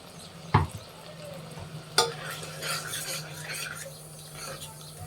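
Ground masala sautéing in a pan for a moong bean sambar, with two sharp spatula clanks against the pan over a low continuous sizzle and scraping, no talking.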